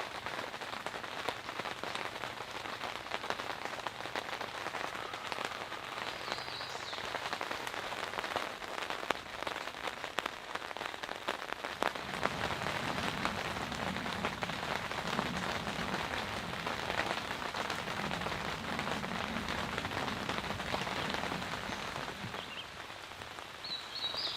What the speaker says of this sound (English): The sound of rain in the morning.